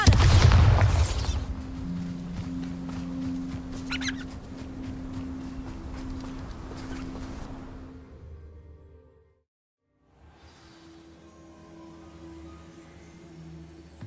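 A Bombarda explosion spell from Hogwarts Legacy goes off as a loud, close boom at the start, then fades into a lower rumble before a brief silence.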